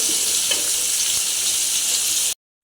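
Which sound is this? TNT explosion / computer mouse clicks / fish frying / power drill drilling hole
fish frying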